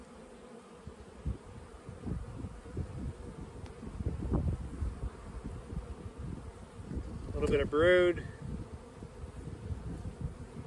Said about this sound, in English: There's not a lot of bees in here.